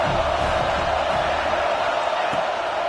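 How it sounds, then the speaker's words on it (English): A football stadium crowd roars for the defense on third down, a loud, steady wall of cheering and noise that holds without a break. "Decibels rising as the crowd gets behind this defense on 3rd down"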